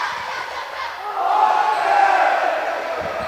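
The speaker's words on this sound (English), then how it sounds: "it kind of wakes up the Crusader faithful a little bit as they start to get cheering in it" Spectators in a gym at a girls' high school volleyball match cheer and shout together, a steady, fairly loud crowd roar that swells midway and holds.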